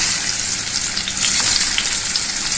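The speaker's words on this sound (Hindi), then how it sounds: "अब हम इसको फ्राई करने के लिए रखेंगे, सैलो फ्राई करेंगे।" Bottle gourd pieces shallow fry in two spoons of hot oil, giving a loud, close, continuous sizzle and crackle with small pops throughout, no voices.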